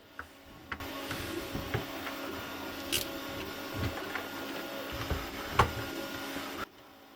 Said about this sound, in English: All this time in the background you can hear my 3D printer printing the top panel